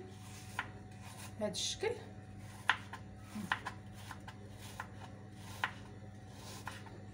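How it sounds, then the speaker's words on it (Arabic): A knife cuts two washed, peeled and cored apples into small cubes, giving soft, scattered taps against the board. The taps are faint and irregular, and someone talks over them. "عندي جوج تفاحات غسلتهم وقشرتهم، كنقشرهم الزريعة داخلها وكنقطعهم بهاد الطريقة، هاد مربعات صغيورين"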